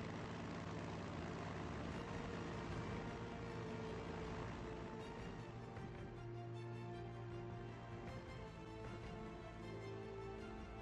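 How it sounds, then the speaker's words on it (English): A propeller-driven tactical bomber in a World War II strategy game drones steadily throughout, a dense, continuous low engine roar with no voices. "Tactical bomber, armed and ready."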